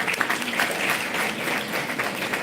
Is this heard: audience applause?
yes